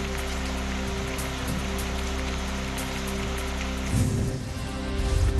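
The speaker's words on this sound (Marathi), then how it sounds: "नाशिकच्या इगतपुरी शहरासह तालुक्यात अवकाळी पावसाची जोरदार हजेरी" Heavy unseasonal rain pours steadily in Igatpuri, Nashik, a dense, continuous patter on surfaces that swells slightly louder near the end, with no voices.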